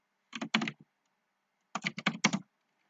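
Two short bursts of quick keystrokes on a computer keyboard, close and clear, separated by a pause of quiet.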